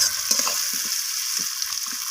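Chopped tomato fries and gets stirred in a pan with other ingredients, giving a steady close sizzle broken by several scraping stirs of the spoon, with no voices.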